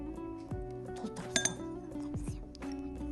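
A spoon stirring salt into a glass of water, bright ringing clinks against the glass that come in small bursts, with a child's and adult's voices talking in the background.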